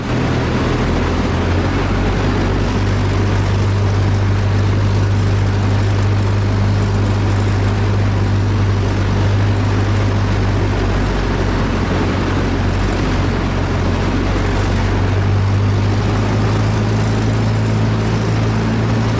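Steady, loud drone of a de Havilland DH-87B Hornet Moth biplane's propeller engine in flight, a constant low hum with wind rush running unbroken throughout.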